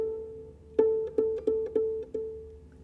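Harp strings are plucked while stopped near the soundboard to imitate a xylophone, giving five short, dry, woody notes in even succession, close and quiet with no ringing sustain.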